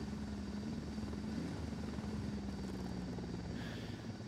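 A helicopter in the video game Ghost Recon Wildlands drones overhead, a faint, steady rotor hum with a low whirring tone that holds throughout without a break.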